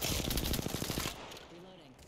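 Rapid automatic gunfire from Apex Legends hammers out in a fast, loud stream of shots for about a second, then cuts off, leaving quieter tonal game sounds behind.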